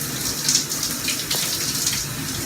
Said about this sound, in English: I was taking a quick shower